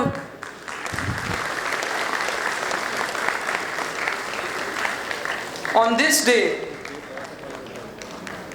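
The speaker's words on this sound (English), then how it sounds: "I'd request the audience to applaud" Convocation audience at R G Kar college applauding steadily in a large hall, a dense sustained wash of clapping with a brief voice over it near the end.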